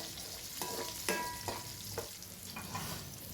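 Cashew nuts fry lightly in a pan for chicken biryani, giving a soft steady sizzle broken by a few brief metallic scrapes and taps of a spoon, no voices.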